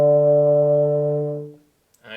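A single sustained euphonium note, fingered with the first and second valves, rings steadily and full for about a second and a half before fading into silence; played close and alone as part of a beginner warm-up.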